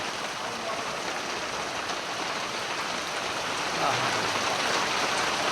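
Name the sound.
rain falling in a village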